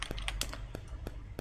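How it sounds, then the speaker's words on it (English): Computer keyboard keys tapped while typing a name, a quick run of sharp clicks close by and moderately loud, with no talking. "just typing in the name"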